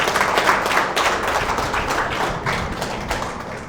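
An audience claps loudly together at a motivational talk, a dense, steady roar of hand claps sustained throughout without voices on top.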